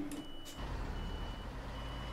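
A truck reversing in Euro Truck Simulator 2, a video game. A faint steady warning tone opens the sound and gives way to a low, continuous engine rumble. No one talks.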